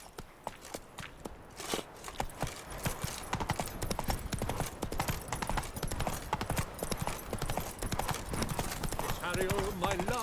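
Horse hooves clip-clop at a steady trot across ground in The Witcher 3 video game, close and continuous with rhythmic thuds and game ambience underneath.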